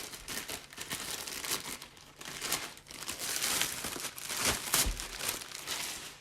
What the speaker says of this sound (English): Again, packed up nicely, taped in a poly bag.